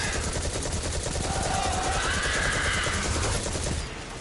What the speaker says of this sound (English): Oh, what great shooting.